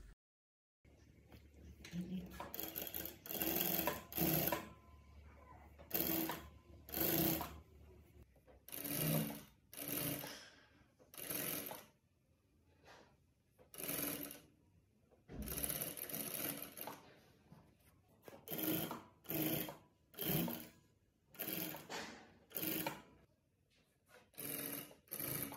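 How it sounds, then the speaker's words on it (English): A sewing machine stitches a saree blouse, front placket and sleeves, in a long series of short, loud bursts of rapid stitching, separated by brief pauses as the fabric is repositioned. "While sewing, match all the notches."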